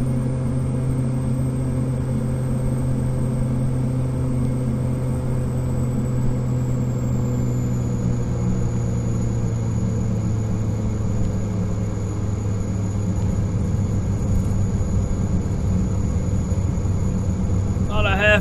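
A TBM 850 turboprop in the flight game Flight Simulator X drones steadily through a landing and rollout, its engine hum and tonal whine slowly falling in pitch, with a few faint clicks near the end.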